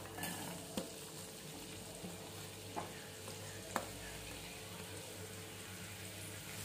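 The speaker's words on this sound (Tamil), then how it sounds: "எண்ணெய் நல்லா சூடானதுக்கு அப்புறமா நம்ம வெட்டி வச்சிருக்க வெங்காயத்தை அதில் சேர்த்துக்கலாம்" Chopped onions hit hot oil in a pan and sizzle steadily, a close, continuous frying hiss with a few light clinks from the pan and stirring.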